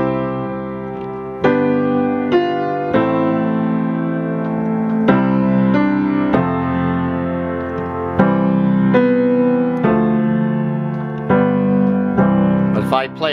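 Piano playing a chord progression with every chord in root position, a series of sustained block chords moving at a slow even pace, loud and close with no talking.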